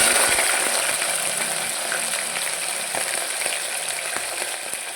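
Chicken pieces sizzle in a pan for a Tamil Nadu-style chicken kurma, a steady, fairly loud hissing fry with scattered small pops and crackles, heard alone without any voices.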